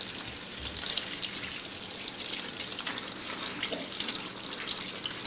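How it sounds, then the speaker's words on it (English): Tap water pours steadily through a strainer of black beans in a kitchen sink, a continuous close splashing rush with no voices. "The first thing I'm going to do is rinse the beans off in the sink. So I'm going to dump them in the strainer like so and give them a rinse off."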